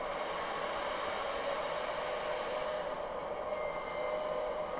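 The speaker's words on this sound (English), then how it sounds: "as these locomotives work to charge the train line, you'll hear the prime movers notch up" Diesel locomotives charging a train's brake line: a steady, loud hiss of rushing air mixes with a droning engine hum, continuous and unchanging, with no voices.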